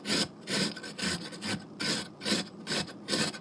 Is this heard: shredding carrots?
yes